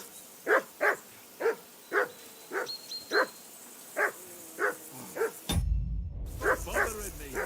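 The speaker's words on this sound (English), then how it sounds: "Jesus, Henry, that barking's driving me nuts." A dog in the video game Kingdom Come: Deliverance II barks repeatedly at a steady pace, about a dozen sharp barks from moderate distance, with a brief noisy cut near the end.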